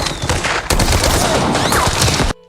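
Battle gunfire from rifles and machine guns crashes in a dense, continuous fusillade of overlapping loud shots and bursts, close and chaotic, breaking off abruptly at the end.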